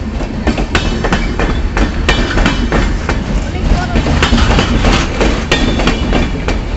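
A train runs along the tracks at close range, a loud steady rumble broken by regular clickety-clack wheel beats over rail joints, continuous throughout with faint voices beneath.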